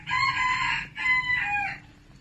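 Up close, a rooster gives a loud, drawn-out crow in two bursts with a short gap between them, then trails off into quiet.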